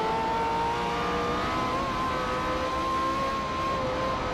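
Ferrari racing car engine in Forza Motorsport 4, a steady, loud, sustained high whine with a slowly rising pitch, held at full throttle throughout with no talking.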